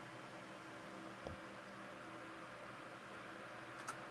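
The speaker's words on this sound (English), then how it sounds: "Who has a fan on?" A fan runs in a room during an online group call, a faint, steady airy hiss with no voices over it.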